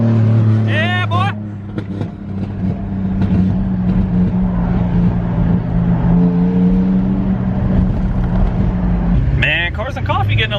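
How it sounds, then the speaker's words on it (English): A Nissan 180SX drives alongside on a road heading to a car meet, its engine a low steady drone under the cabin noise, with people talking over it throughout. "Got Jesse coming up beside me in the 180"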